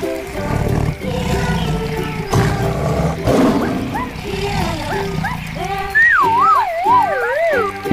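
Toy tiger roar sound effect, a rough growling roar mixed with music, followed by rising and falling siren-like electronic tones, loud and close.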